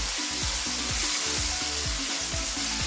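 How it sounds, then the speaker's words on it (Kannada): Capsicum frying lightly in a pan over a low flame, a steady, dense sizzle running throughout at close range and fairly loud, with a repeating low tonal pattern underneath. "ಕಾಲು ಕೆ ಜಿಯಷ್ಟು ಕ್ಯಾಪ್ಸಿಕಮ್ನ ಹಾಕೋತಾ ಇದ್ದೀನಿ ಈಗ ಲೈಟಾಗಿ ಫ್ರೈ ಮಾಡ್ಕೋಬೇಕು"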